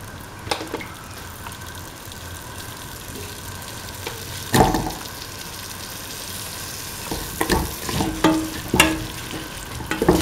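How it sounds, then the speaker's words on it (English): Soft, steady sizzling as potato pieces fry in an egg and coconut milk stew, with scattered clinks and scrapes of stirring, louder in bursts near the end. "Now put in the potato pieces."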